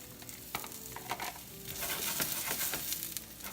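Vegetables and tomatoes sauté in a pan with a soft sizzle. Spatula scrapes and stirring clatters break in unevenly and build toward the end.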